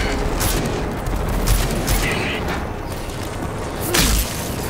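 Pistol gunshots in the video game Rage 2: several sharp reports burst out over a gritty, noisy game soundscape, with a loud cluster early on and another near the end.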